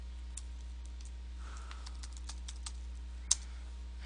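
Faint, scattered keystrokes from a computer keyboard as a SQL query is typed, sparse light clicks with one sharper tap, set against a low steady hum.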